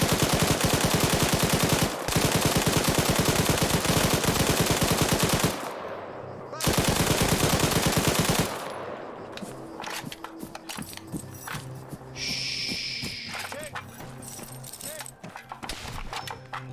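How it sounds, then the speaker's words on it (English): Loud, sustained machine gun fire from a video game rattles in rapid continuous bursts, breaks off briefly, resumes, then gives way to scattered shots and clatter with occasional talk. "Machine gun."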